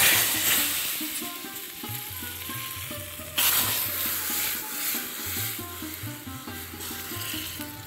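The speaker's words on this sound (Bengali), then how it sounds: "যখন সর্ষেগুলো ফাটতে শুরু করবে তখন আমি এটাকে ডালের মধ্যে ঢেলে দেবো" A hot mustard seed tempering is poured into dal for tomato rasam, a loud hissing sizzle that flares up suddenly and then settles into steady crackling, heard up close with a low humming tone underneath.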